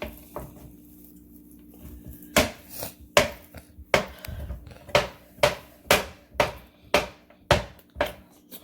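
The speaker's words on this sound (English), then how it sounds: "get this diced up the best way we can" A knife dices ingredients for a hash brown casserole on a cutting board: about nine sharp, evenly spaced chops ring out close and loud over a quiet kitchen background, with no talking.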